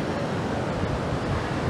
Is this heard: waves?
yes